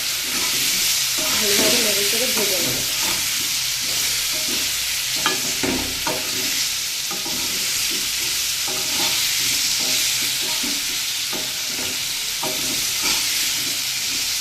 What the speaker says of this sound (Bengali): একটু ভাজতে হবে এটা সিদ্ধ করলাম না একবারে তেলে দিয়ে